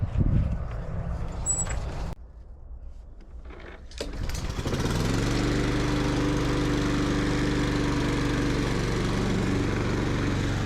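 Power rake engine pulled over, catching after a brief lull, then settling into a loud, steady, close drone with constant low harmonics and no talk.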